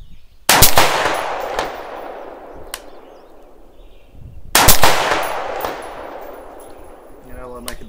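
Two sharp rifle shots ring out at an outdoor target range, about four seconds apart. Each loud crack is followed by a long echoing decay.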